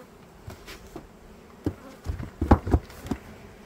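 Honeybees in an apiary during late-summer hive treatment buzz around the beehives, with a faint steady hum broken by close passing bursts that swell and fade, no talk.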